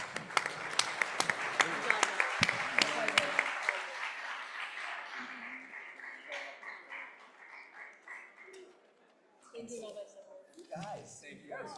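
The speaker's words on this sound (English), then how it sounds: "So one more round of applause." An audience at a Yom Kippur memorial symposium at Temple Israel of Great Neck breaks into a lively round of close clapping that tapers off after a few seconds, followed by people talking.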